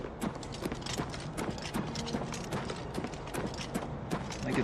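Horse hooves clip-clop in the video game Oblivion Remastered, a steady run of sharp hoofbeats with clicky, mechanical-sounding impacts over a busy game soundscape, with no talk.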